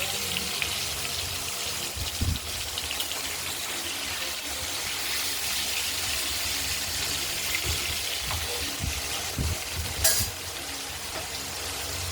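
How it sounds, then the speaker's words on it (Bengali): Four pieces of katla fish sizzle steadily in hot oil, a continuous bright crackling hiss with occasional louder pops and spits, close by and without speech. "এটা আমরা ভাজা করে নিচ্ছি।"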